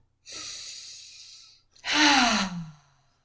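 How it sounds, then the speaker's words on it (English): A deep, breathy exhale through the mouth during a guided yoga relaxation, heard alone and close after a softer earlier breath, swelling loudly then trailing off with no talk over it. "Inhale deeply and exhale fully with your mouth."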